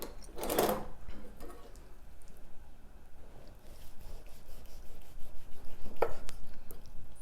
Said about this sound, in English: So let's dig in and give her a slice.